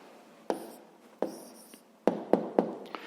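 A pen writes on paper up close in a quiet room: scattered short scratchy strokes and taps, irregular in rhythm and faint.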